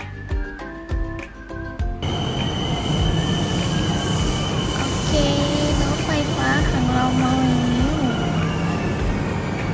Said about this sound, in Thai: เราก็มารอ BTS กันเลยค่ะ